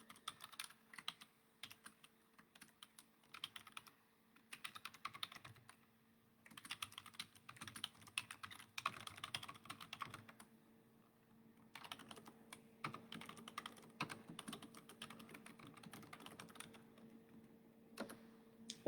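Quiet, close clatter of fingers typing on a computer keyboard in uneven bursts separated by brief pauses, with a faint steady hum behind.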